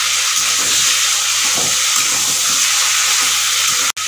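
Vegetables for shukto tipped into a hot pan, a loud, steady hissing sizzle with stirring clatter underneath, cut off by a brief gap near the end.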